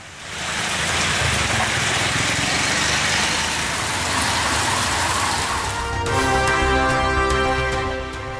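Widespread rain in Mayiladuthurai district, Tamil Nadu, pours down as a loud, dense, steady hiss. Near the end, sustained musical tones join in over it.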